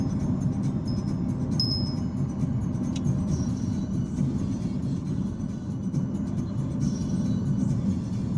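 Steady low road rumble inside a car on the drive from Jaisalmer to the Sam Dunes, continuous and even, with a few faint light clinks and no talk.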